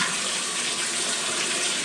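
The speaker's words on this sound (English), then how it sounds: "So I fill up the tank, throw out the water," Water runs steadily into a film developing tank while it is filled for a rinse of black-and-white film developed in D-76, a loud, even broadband rush with no break and no speech.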